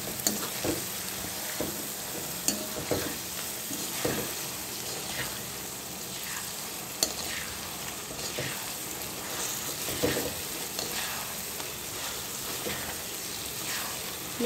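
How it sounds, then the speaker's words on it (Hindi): Onions frying in a pan over medium-high flame, a steady close crackling sizzle with occasional stirring scrapes, continuous and alone for the whole stretch. "इसको थोड़ी सी मीडियम टू हाई फ्लेम पे हम फ्राई करेंगे प्याज अच्छे से"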